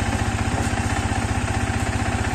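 A Yamaha R15 V3 motorcycle idling just after a self-start, its engine putting out a fast, even, pulsing exhaust thrum that stays steady and close.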